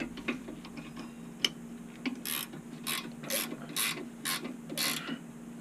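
A torque wrench ratchets as it tightens a bolt during a rear bearing replacement on a GTO/Monaro, giving a string of close, crisp clicks in an even rhythm of about six strokes over a low background hum.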